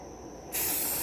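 A spray paint can bursts into a loud, steady hiss about halfway through and keeps spraying to the end, used to repaint a toy Cozy Coupe car.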